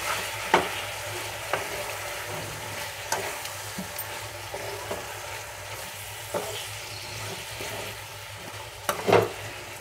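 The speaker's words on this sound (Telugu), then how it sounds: "ఇవన్నీ కలుపుకున్నాము." Capsicum chicken fry with salt and turmeric is stirred in a pan: a low background sizzle broken by repeated sharp spoon scrapes and knocks at irregular intervals, with no speech.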